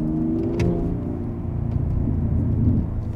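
A V12 car rolls downhill on the overrun held in second gear, its exhaust giving a low rumbling drone with a brief sharp pop near the start, steady and close throughout.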